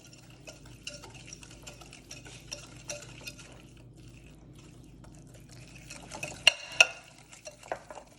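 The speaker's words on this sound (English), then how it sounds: "We're going to whisk those until the mixture is smooth and there aren't any sugar lumps remaining." Eggs and sugar for chocolate chip cookie dough get whisked in a bowl, soft rapid scraping and tapping strokes, quiet and close, with a couple of sharper clinks of the whisk against the bowl toward the end.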